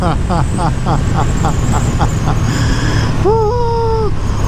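A 2022 Ducati Streetfighter V2 motorcycle accelerates hard at full throttle, its loud, close engine note climbing in pitch through quick-shifter gear changes with short cuts between them. A voice is briefly heard over the engine near the end.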